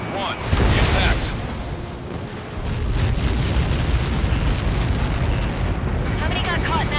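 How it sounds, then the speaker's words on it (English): A missile strike explodes in Ace Combat 7 with a loud, roaring boom that swells into a sustained, turbulent rumble lasting several seconds, with radio voices talking faintly beneath it. "How many got caught in that explosion?"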